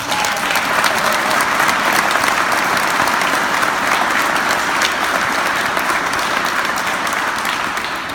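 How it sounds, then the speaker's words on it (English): A ceremony audience honoring a new firefighter academy graduate claps in a loud, dense, continuous wave that holds steady for about eight seconds. "let's give him a round of applause"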